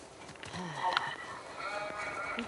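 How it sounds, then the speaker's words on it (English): Sheep bleating in The Last of Us Part II, with a short, fairly faint bleat rising over soft ambient game sound. "why the fuck am I fucking wrangling sheep right now?"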